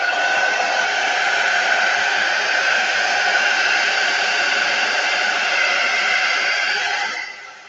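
A hair dryer blows steadily to dry a chalk craft project, a loud, even whoosh of air that holds constant for several seconds before switching off and fading at the end.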